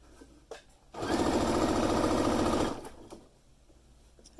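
A sewing machine stitches a fabric scrunchie in one loud, steady buzzing run of under two seconds, with quiet handling noises before and after.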